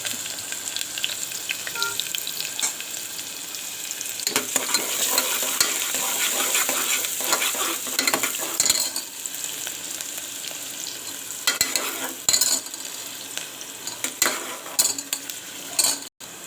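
Chopped onion fries and sizzles in oil inside a pressure cooker while a spoon stirs it now and then, giving a steady close hiss with scraping and clinking accents throughout.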